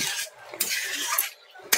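Metal utensils scrape and clink against a plate as egg tadka is served, two bright, close bursts of scraping separated by brief pauses, ending with a sharp tap, with no talking.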